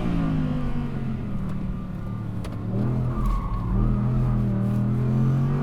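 An Audi R8 GT sliding on a track, its engine droning loud and steady with shifting pitch while tires squeal and scrub underneath, without any talk.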